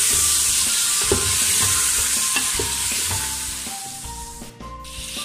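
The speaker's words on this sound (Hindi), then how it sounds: "अब मैं इसमें मटन ऐड कर दूँगा। मटन मेरे पास 1 किलो है। अब मैं इसको अच्छी तरह फ्राई करूँगा।" One kilogram of mutton frying in a pot with golden-browned onions for lauki gosht, a steady close sizzle with repeated scraping stirs throughout, no voices.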